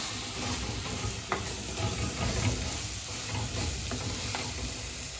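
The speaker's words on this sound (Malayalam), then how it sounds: "അതിനുശേഷം നന്നായിട്ട് അങ്ങോട്ട് വഴറ്റുവാണ്" Ground spices and black pepper sautéed in a pan for a Kerala-style king fish curry, giving a steady close sizzle with scraping stir strokes throughout and no voices.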